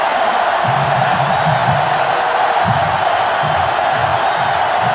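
A stadium crowd cheering in the NCAA Football 2005 video game, a steady loud roar with rising swells of shouts and whoops running throughout.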